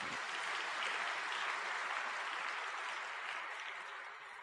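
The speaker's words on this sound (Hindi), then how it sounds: "बजा लो ताली" An audience breaks into steady applause at a spiritual gathering, a dense, continuous wash of clapping that holds at an even level and only slightly fades toward the end.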